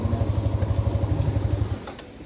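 A repaired motorcycle engine idling nearby with a steady, pulsing thump for about two seconds before it cuts out, leaving quieter background noise.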